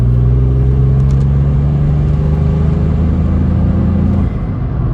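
VW Up! GTI with an aftermarket air filter and turbo intake pipe pulling hard in fourth gear, a loud, steady droning engine note heard from inside the car, dropping slightly at the end as the throttle eases.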